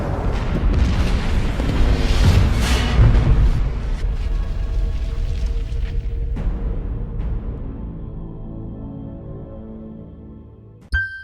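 Grenade explosions in a video game boom in a dense, loud barrage of overlapping blasts, then trail off into a fading rumble with one last short burst at the end.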